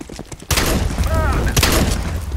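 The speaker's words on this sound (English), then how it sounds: "Throwing a flashbang. Grenade." A flashbang grenade goes off in a CS:GO competitive match: quieter game noise, then a sudden loud bang at about half a second, a lingering ringing tone, and a second sharp burst later.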